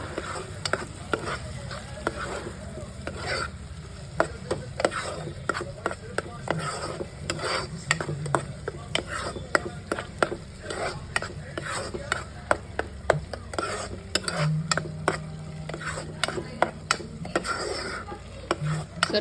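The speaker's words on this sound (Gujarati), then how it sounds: "સરખી મિક્સ કરી દેવાની, બે સાવ મિક્સ થઈ જવું જોઈએ" A spoon scrapes and stirs tomato gravy into rajma in a pot, with steady rhythmic scraping strokes and a soft sizzle underneath, close and continuous with no talking.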